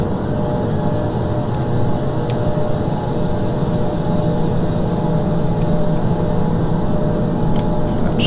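A Boeing 757 jet climbing out after takeoff in Microsoft Flight Simulator X, a steady loud engine roar with a constant whine held throughout, with no other sounds on top.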